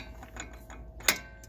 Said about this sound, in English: I'll go ahead and use my breaker bar to tighten it the rest of the way